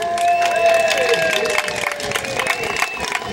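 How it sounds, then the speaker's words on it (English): Theatre audience applauding and cheering at a Land of Make Believe Middle Earth stage performance, a steady wash of clapping with crowd noise and a few tonal whistle-like sounds running through it, fairly loud and continuous. "So let's start our story with another great big round of applause."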